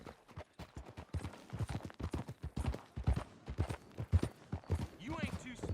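Hooves clip-clop in a steady rhythm as horses are ridden in the video game Red Dead Redemption 2, heard close and under frequent spoken dialogue from the characters.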